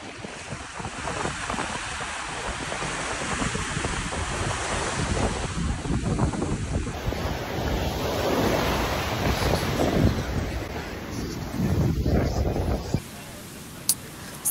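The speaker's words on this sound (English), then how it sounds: "So, we are at the beach" Ocean waves wash onto a Punta Cana beach in steady, continuous surf, with strong wind buffeting the microphone throughout and no clear talk.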